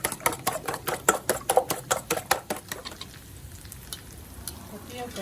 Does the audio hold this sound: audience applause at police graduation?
no